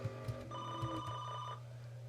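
A telephone rings with several quick electronic tones and a sustained ringtone over a low steady hum, fairly faint and lasting about two seconds.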